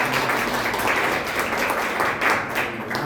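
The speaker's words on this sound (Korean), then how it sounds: "박수로 한번 감사합니다." A church congregation applauds steadily during a service, dense clapping filling the space for a few seconds without a break.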